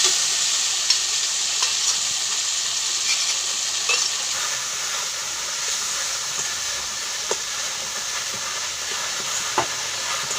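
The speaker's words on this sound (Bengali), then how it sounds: "মশলার সঙ্গে টমেটো কষা হয়ে যাবে," Tomato and spices sauté in a pan while cooking mutter paneer, a steady close sizzle with occasional stirring clicks and scrapes, no voice over it.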